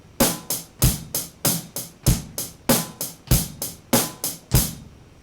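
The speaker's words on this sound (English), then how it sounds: "your rock beat should sound like this." A rock beat is played on a drum set at a steady, moderate tempo, with sharp, regular hits alternating between heavier and lighter strokes and ringing cymbal wash, clear and alone with no talk.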